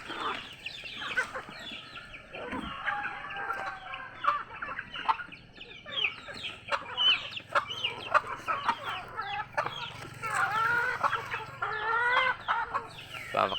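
Hens cluck steadily in an outdoor backyard flock, with several birds calling at once and overlapping near and farther off, plus a brief rooster-like call among them. No one speaks.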